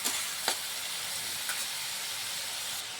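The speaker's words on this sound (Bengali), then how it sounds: "এখানে পেঁয়াজটা আমরা ঠিক লাল করে ভেজে নেব।" Chopped large onions frying in mustard oil for a spicy crab curry, a steady close sizzle and hiss with a few brief stirring scrapes and no talk.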